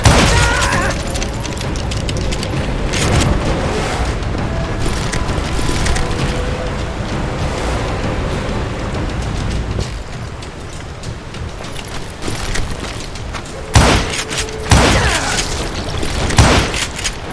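Shootout gunfire in the Western video game Call of Juarez: Gunslinger, loud repeated booming shots in scattered bursts over a dense, noisy game mix, with sharp isolated blasts near the end.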